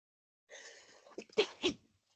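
A single sharp sneeze, preceded by a brief inhaling build-up, sounds close and alone against silence.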